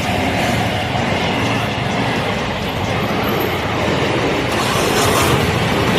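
A train rumbles past a railway level crossing, giving a loud, steady broadband roar that fills the whole clip without letting up.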